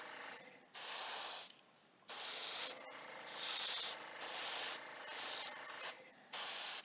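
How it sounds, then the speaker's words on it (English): Airbrush spraying primer onto a miniature, its nozzle slightly clogged, gives a close hiss in about six separate bursts with short pauses between them. "It sounds like I have a little bit of a clog on this airbrush."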